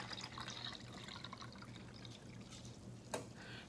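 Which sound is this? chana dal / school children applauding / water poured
water poured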